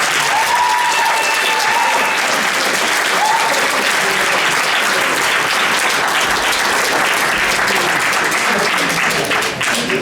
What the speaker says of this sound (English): Mayor Malmer, give a round of applause.